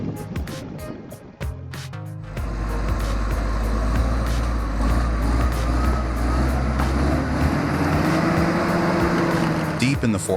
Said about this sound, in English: Engines roar, the two machines wrestle for dominance